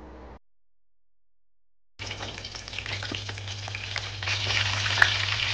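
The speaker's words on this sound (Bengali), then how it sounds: "এবার একটা প্যানে আমি পর্যাপ্ত পরিমাণে তেল নিয়ে নিচ্ছি আমাদের ডিম চপগুলো ভাজার জন্য।" Egg chops frying in plenty of oil in a pan: after a brief silence, a close, steady sizzle and crackle that grows slightly louder and continues to the end.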